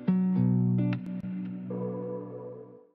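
Unprocessed guitar pattern for an afrobeat track, a short dry phrase of plucked notes with a few sharp attacks, ending on a held note that fades out.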